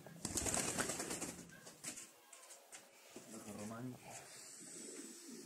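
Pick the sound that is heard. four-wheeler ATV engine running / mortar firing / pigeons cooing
pigeons cooing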